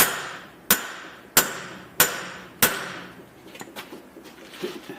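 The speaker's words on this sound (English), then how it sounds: "I'm using a fairly big hammer to" Four hard, evenly spaced metallic hammer blows from a fairly big hammer drive the axle shaft into the hub of a 2009 Ram 1500 4x4. They ring out loud and close, then give way to quieter clinks and shuffling.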